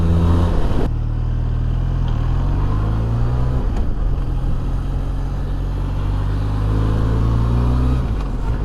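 Benelli TRK 502 motorcycle (2021, Euro 5) under way, its engine droning steadily and loud close by, pitch shifting slightly as it rides, after a brief clatter at the start.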